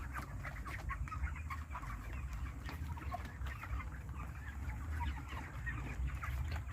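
Chickens cluck and murmur continuously on a broiler poultry farm, a dense flock chattering at moderate distance with a low ambient rumble beneath, no talking.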